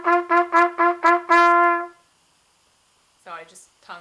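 A trumpet repeats a tongued G in five crisp, evenly spaced short notes, then holds a longer tone, clear and close; after a pause someone briefly speaks.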